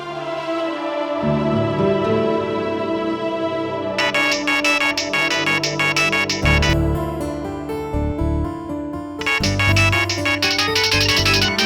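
A phone rings with a loud, continuous melodic ringtone, a tune repeating over and over without pause. No one speaks.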